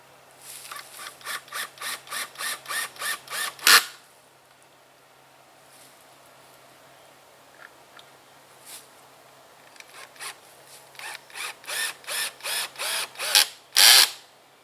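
A mount is bolted to a tree outdoors with two bursts of rapid, evenly spaced ratcheting clicks, each quickening into a louder final snap, separated by a quiet stretch with a few faint knocks.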